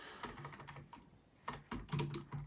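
Typing on a computer keyboard, a close run of quick key clicks in irregular bursts with a brief lull midway, no voice.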